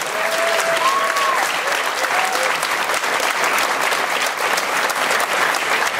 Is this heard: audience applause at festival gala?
yes